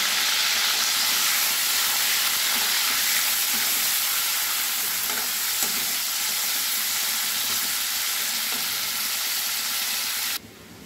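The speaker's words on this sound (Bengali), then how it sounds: "চিকেনগুলো আমি ভেজে নিচ্ছি" Chicken pieces frying in hot oil in a kadai give a loud, dense, continuous sizzle heard up close with faint stirring scrapes, holding steady before dropping away sharply at the very end.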